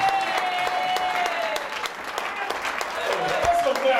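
A church congregation claps and cheers in a sustained, dense wave of applause, with voices calling out over it and a tone ringing underneath.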